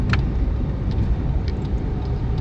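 A car engine drones steadily at constant pitch with low road rumble, the automatic transmission not shifting up from first gear, no change in the tone, heard from inside the vehicle.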